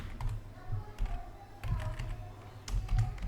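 Keys clatter on a computer keyboard as a server copy command is typed in a PuTTY terminal session, irregular close taps in short bursts with pauses between them.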